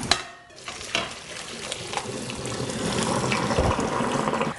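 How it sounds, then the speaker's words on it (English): Water being drained from a pot of cooked spinach in a home kitchen, a steady splashing pour that swells into a continuous rushing flow after a short clatter at the start. "So now we're going to drain the water out of the spinach"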